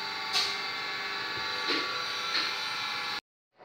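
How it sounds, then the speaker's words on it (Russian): A tap cutting a thread into a Ford 1.6 cylinder block gives steady, close metallic grinding with a few sharper scraping strokes, then stops abruptly near the end. "докручиваем резьбу до дна шахты"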